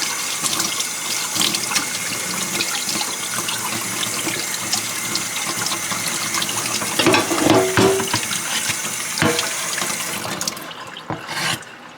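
A tap pours steadily into a sink as oxtail pieces are washed under the running water. The rush is continuous and close, with a few brief splashes and handling knocks near the end before the flow cuts off.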